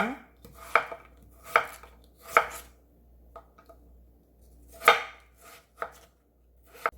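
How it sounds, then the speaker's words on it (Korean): A knife chops a chunk of daikon radish into thin squares on a cutting board in sharp, spaced thuds, close and clear, with quiet pauses between strokes. "무 한 토막 나박썰기 해주세요."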